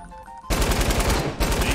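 Rapid automatic gunfire in Fortnite, a loud continuous rattle of shots bursting in after a quiet half second, pausing briefly then resuming.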